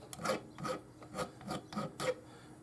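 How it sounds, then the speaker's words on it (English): File scraping burrs off guitar fret ends on a Les Paul Junior, five distinct close rasping strokes in a steady back-and-forth rhythm, quiet and alone. "getting all these little burrs off the ends of these frets here"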